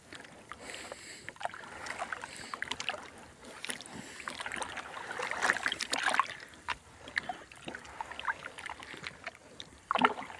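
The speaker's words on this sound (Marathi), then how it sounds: "तर गुड व्यवस्थित मिक्स करून घेऊया" Jaggery is stirred into water by hand, giving soft repeated sloshing and splashing close by, swelling in the middle and ending with a louder splash.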